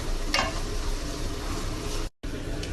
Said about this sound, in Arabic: الحين اقلي البصلة بالسمن